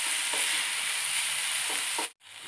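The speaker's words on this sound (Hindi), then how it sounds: "हाई फ्लेम पर सॉटे कर लेना है थोड़ी देर के लिए, 1 मिनट के लिए" Vegetables for a Schezwan hot dog sauté in a pan over a high flame, giving a dense, steady hiss of frying with a few soft stirring scrapes. The sound cuts out for a split second near the end.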